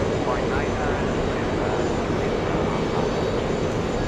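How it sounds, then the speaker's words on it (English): Airbus A380 jet taking off from runway 22 Right at JFK Airport, a loud continuous engine roar filling the whole clip, steady and constant, with a person talking faintly beneath it. "Not quite back-to-back takeoffs on 22 rights by A380s, but hey, I'll take it."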